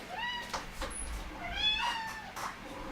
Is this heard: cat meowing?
yes